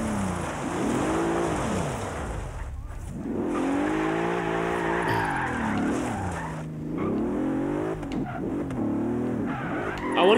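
A car drifting in Forza Horizon 3, its engine revving and dropping as the tires squeal in long sustained slides, loud and close with almost no talk.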